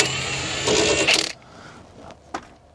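Nuts are worked loose on the front drop links of a Ford Focus MK1 during a steering rack job, giving close metallic clinks and rattles followed by a few sharp taps and a brief ratcheting click.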